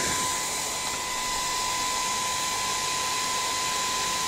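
A Philips Active Cool 1650 HP3462 hair dryer runs on its low setting with a steady, loud fan whoosh and a constant whine, holding level throughout with no talk.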